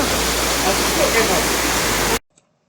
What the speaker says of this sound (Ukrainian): Отакий красивий водоспад.